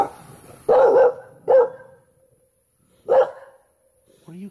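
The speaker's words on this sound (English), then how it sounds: "What are you guys barking at?" Dogs bark outdoors at night in short separate bursts, three sharp barks spread apart with quiet gaps, and a brief whimper or yip at the end.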